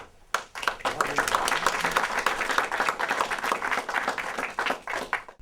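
An audience breaks into applause, a sudden onset of dense, bright clapping that stays loud and steady for several seconds, close and unbroken.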